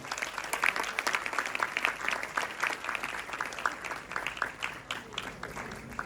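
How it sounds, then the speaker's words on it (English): A conference audience at a founders' panel session applauds steadily, with dense, continuous clapping sustained evenly throughout at moderate volume. "Keep the applause going for Raghav Himatsingka."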